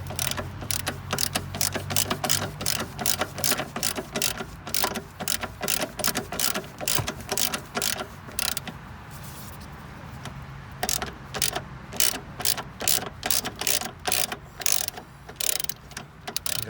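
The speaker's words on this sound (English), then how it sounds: "you want a 10mm socket to undo this bolt here" Ratchet with a 10mm socket undoing a bolt on a Mini Cooper S, rapid close clicking in steady bursts, pausing briefly midway before resuming.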